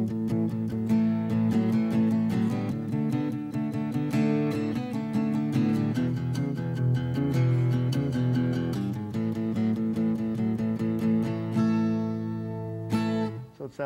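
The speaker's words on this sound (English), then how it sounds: "If I transform that into a rock and roll blues pattern" An electric guitar plays a lively, bouncing rock and roll blues pattern in steady rhythm, sustained chords ringing continuously and fading out at the end.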